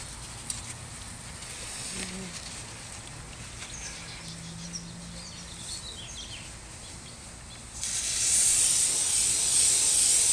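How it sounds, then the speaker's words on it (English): Brake cleaner aerosol hisses steadily around the oil filter housing of a VW, a close, loud spray bursting in near the end after quieter hissing and faint background noise. "I've been taking a little brake clean and just going around this to make sure as best I can there's no tiny"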